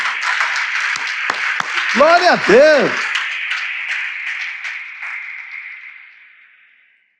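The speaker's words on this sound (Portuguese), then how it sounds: "Vamos aplaudir esse Deus, irmão" A church congregation applauds during a sermon, a dense wash of clapping under a preacher's loud exclamation, gradually fading to silence.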